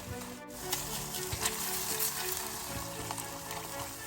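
Red curry paste stir-fried with thick coconut cream in a small pot for a pork and eggplant curry, giving a steady close sizzle with a few soft scrapes of stirring and no voices.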